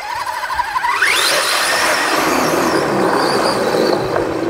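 A 6x6 RC mud truck's electric motor, running on a LiPo battery, strains through thick mud. It gives a loud, continuous whine that climbs in pitch early on and then holds a steady, busy roar.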